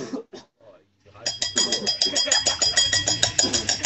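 A few brief voices are followed by a bell struck in a rapid, even clatter of bright metallic rings that continues loudly to the end.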